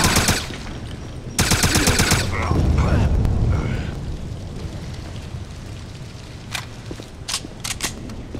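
Gunfire and explosions in the shooter game Wolfenstein: loud bursts of rapid automatic fire open the stretch, followed by a rumbling blast and decaying debris, then several sharp isolated shots toward the end.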